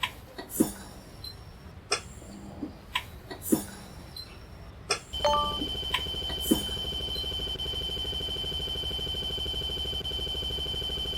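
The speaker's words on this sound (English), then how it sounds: "the low air buzzer or light should activate at 55 psi or above" A truck's low air pressure warning buzzer comes on partway through, a steady, fairly loud electronic tone that holds continuously after a few scattered clicks and knocks inside the cab.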